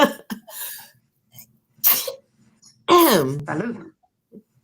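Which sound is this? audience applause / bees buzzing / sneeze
sneeze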